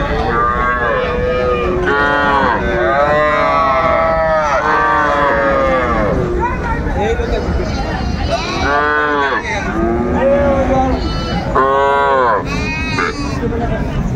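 Young bull calves at a Dhaka cattle market bellowing loudly, with repeated long, drawn-out moos in several overlapping bursts against a busy crowd backdrop with voices.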